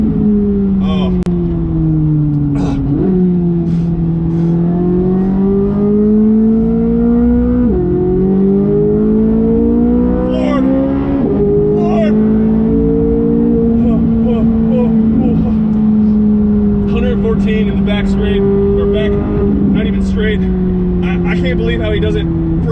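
A Corvette C8 Z06 engine revs hard on a race track, its pitch climbing and dropping through gear changes in a loud, continuous drone heard from inside the car, with people talking over it.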